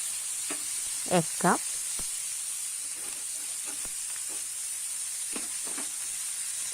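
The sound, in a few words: chopped carrot sizzling in pan for fried rice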